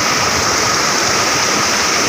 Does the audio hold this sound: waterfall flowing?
yes